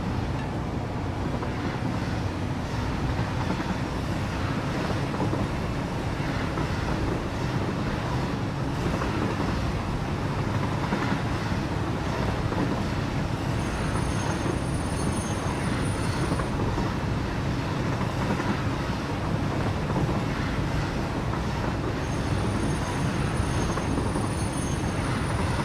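A fully loaded train in the video game Satisfactory runs continuously with a dense, steady rumbling roar and wind-like rush, loud and unbroken, with no voices.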